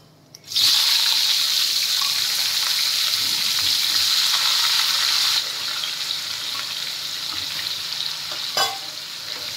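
Raw mango pieces go into hot oil tempered with radhuni, setting off a loud, steady sizzle that runs for several seconds, drops a little in volume partway, and carries a brief clatter near the end, with no talking.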